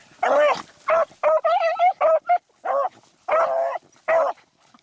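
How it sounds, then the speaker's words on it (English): A beagle barks and whimpers in a run of close, loud yelps and whining cries, about a dozen short bursts with brief pauses between them. "She's a great anchor dog."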